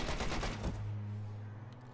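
A .50 cal machine gun in a video game fires a rapid burst of loud shots for under a second, followed by a fading rumble.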